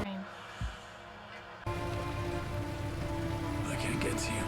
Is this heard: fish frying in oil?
no